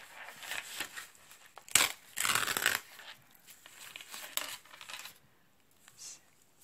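Someone opens a mail package by hand, with close crinkling, tearing and crumpling of paper in irregular bursts and a sharp click at one point, ending in near quiet.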